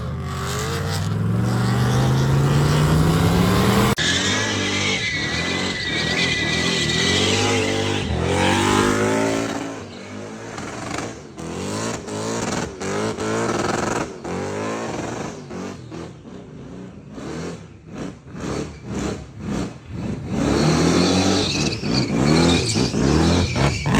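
A car engine revs hard and climbs in pitch, then sputters and bursts through rapid throttle blips before roaring steadily again, loud and close.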